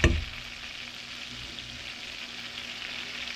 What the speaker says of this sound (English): We're going to go ahead and introduce the steaks right into the butter bath.